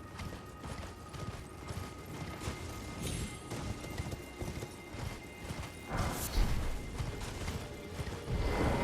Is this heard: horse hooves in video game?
yes